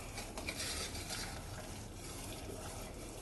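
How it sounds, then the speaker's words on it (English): Soft, steady bubbling and popping of boiling sugar and butter for saltine toffee in a pan, a continuous low sizzle with no voices. "It's just got a little bit of like air bubbles popping"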